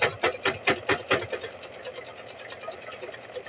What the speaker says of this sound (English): So you just sew that on there